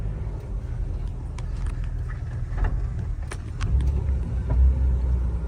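A Jeep Wrangler Sahara rolling on asphalt, shifting out of four-wheel drive, gives a low steady engine and road rumble with a few light clicks and a brief swell near the end.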